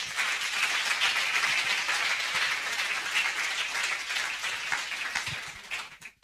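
An audience at an evening event claps in dense, even applause for about six seconds before it fades out abruptly.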